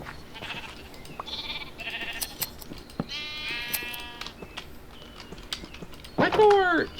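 Sheep in the Minecraft TerraFirmaCraft game bleat several times in a field, short nasal calls scattered through the clip, with a louder, closer bleat near the end and faint game sounds in between.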